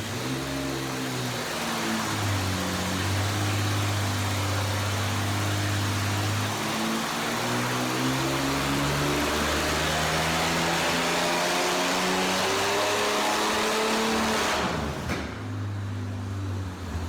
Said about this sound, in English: This was a 292 inline 6-cylinder Chevy, and when we ran this thing stock